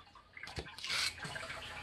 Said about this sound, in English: pumps it up into the bucket faster than it gets used so it overflows back down into the reservoir